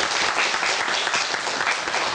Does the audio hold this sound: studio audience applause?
yes